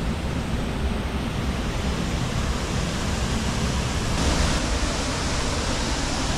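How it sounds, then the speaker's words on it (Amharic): A large waterfall on a big, flood-swollen river near Bishoftu, Ethiopia gives a loud, unbroken broadband roar that holds steady and swells slightly near the end, with no talking. "በጣም የሚያምር ፏፏቴ"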